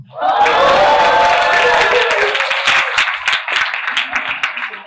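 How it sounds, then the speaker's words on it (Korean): Loud, dense applause from a church audience, with cheering and shouting mixed into the steady roar of many hands clapping close by; it fades slightly toward the end. "이런 억지 박수라도 받아야 아침에 힘이 나지."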